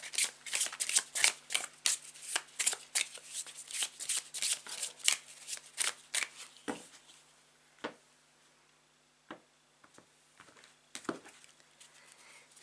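A deck of tarot cards is shuffled close by in quick, crisp riffles and flutters that taper into sparse, scattered snaps and taps.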